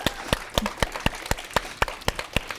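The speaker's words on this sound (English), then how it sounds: "Let's give them one more round of applause." Applause for a panel on stage at a summer star success event, heard as a sparse run of distinct, evenly spaced claps from nearby, loud and sharp with a faint crowd murmur beneath.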